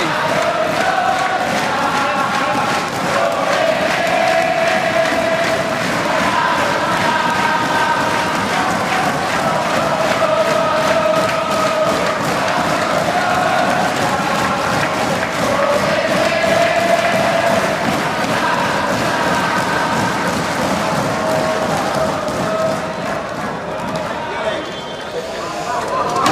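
Spectators at an Indonesian tennis match roar and cheer in a dense, sustained wall of crowd noise that holds steady for the whole stretch, loud and close, with voices mixed in.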